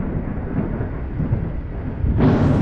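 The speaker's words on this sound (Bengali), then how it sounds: "বুঝতেই পারছো কেমন বজ্রঘাত করছে, অনেকক্ষণ ধরে পড়ছে" A deep, rolling thunder rumbles through a village rainstorm, low and sustained, then swells louder with a sharper crack near the end over steady rain.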